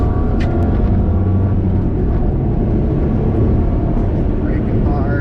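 A racing car in a video game roars loud and steady with engine drone and brief higher whines, and a voice talks over it.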